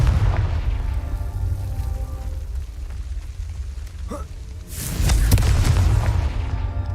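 A Confringo spell detonates in Hogwarts Legacy, a deep booming blast over a rumbling game soundscape, with a short sharp burst and swell of noise partway through.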